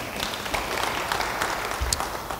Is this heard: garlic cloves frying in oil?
no